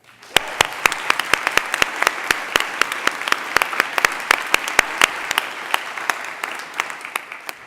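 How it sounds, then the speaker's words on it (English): A graduation hooding ceremony audience breaks into a steady round of applause, dense claps carrying evenly for several seconds with no voices over them. "can we please give them a round of applause?"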